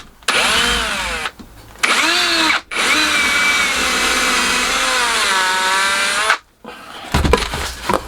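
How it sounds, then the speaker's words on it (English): A small drill bores out wood to cut a mortise, whining in several bursts with pitch sliding as it bites and frees, separated by brief pauses and a final clatter. "I'm just going to take the edges out with a small drill and work my way inwards"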